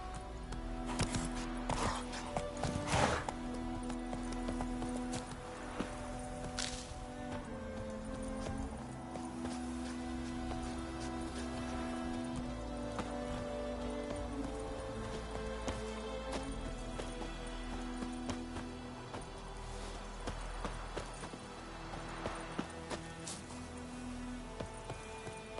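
Hooves of a galloping horse in Witcher 3 clip-clop under a game soundtrack and ambience, forming a steady rhythmic patter at moderate distance that continues for the whole stretch.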